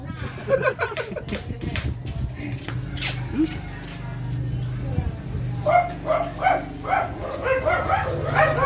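A puppy barks and yips in short bursts, close by, with people talking and chatter around it during a morning meal at home.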